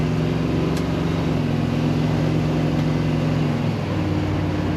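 A 1958 Chevrolet Apache Fleetside street rod truck cruising, its engine and mufflers giving a continuous low rumble, steady and loud from inside the moving truck.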